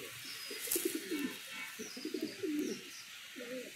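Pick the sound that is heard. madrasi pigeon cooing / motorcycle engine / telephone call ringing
madrasi pigeon cooing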